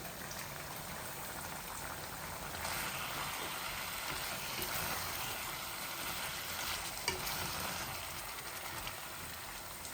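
Cumin seeds and a whole garlic bulb fry in a pan with a steady, close, broadband sizzle and crackle that holds for the whole stretch, with a small pop near the end and no voices.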